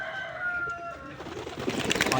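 Pigeons on a rooftop after heavy rain, a few soft close coos at the start followed by brief rustling and flutter-like sounds.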